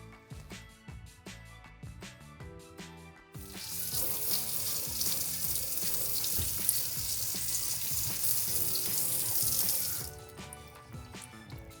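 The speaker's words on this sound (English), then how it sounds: "let's go ahead and run some water through our system." Water rushes from a newly installed Delta single-handle kitchen faucet with side spray, a steady loud flow that starts abruptly after a few seconds of quieter handling noises and cuts off near the end.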